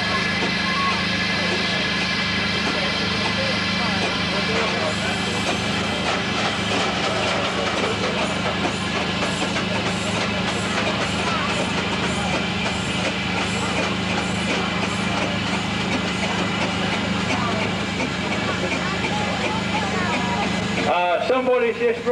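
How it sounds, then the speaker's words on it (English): A 1909 Fayre A8 estate steam engine runs at a rally, giving a steady, loud mechanical chugging and rattling that continues without a break before ending abruptly. "It's the Fayre A8 estate engine made in 1909, owned by Colin and Carol Piggott."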